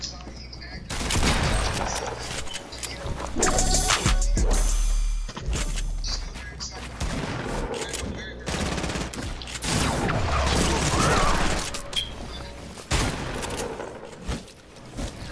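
Shotgun fire in a fast-paced shooter video game, repeated sharp blasts in rapid bursts mixed with other gunfire and explosions, loud and dense, with a voice talking over the action.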